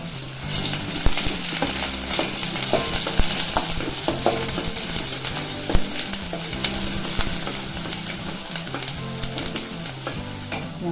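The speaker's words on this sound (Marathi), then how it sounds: "लसूण टाकायचं आहे बारीक चिरलेला त्याच्यामध्ये कांदा टाकायचा" Finely chopped garlic and onion fry in hot oil with cumin for a banana flower bhaji, giving a loud, steady sizzle and crackle with frequent stirring scrapes of a spoon against the pan.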